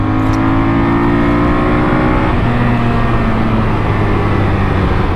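Honda ST1300PA police motorcycle on Bridgestone Battlax BT023 sport touring tires, its engine droning steadily and loud while riding, with a pitch shift midway as it changes speed and constant road and wind rumble underneath.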